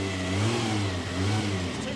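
A car engine running on ten-year-old fuel, with two cylinders previously misfiring, revs close by in a short burst of throaty rising and falling engine tone.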